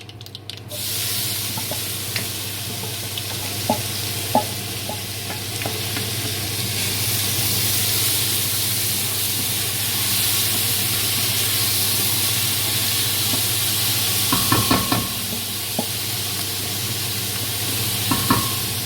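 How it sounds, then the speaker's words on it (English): Onions sautéing in hot oil or ghee, a steady close sizzle and hiss with occasional spatula scrapes and small pops, continuous throughout. "So we'll just saute the onions until they've kind of, gone to a nice golden brown."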